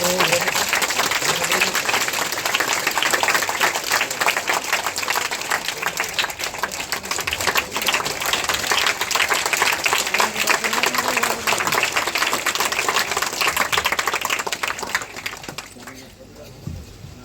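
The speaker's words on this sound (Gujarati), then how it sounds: "તાળીઓના ગગડાટથી વધાવશું આપણે." Sustained applause from a crowd at a village gathering welcoming saints, dense clapping that carries steadily for about fifteen seconds before fading, with voices mixed in.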